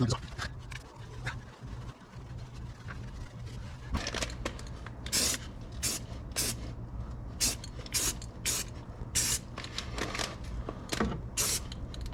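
A second coat of spray paint goes onto a chopped 2020 Toyota 4Runner body mount in short, sharp hissing bursts repeating through the second half, over a low steady hum with some talk.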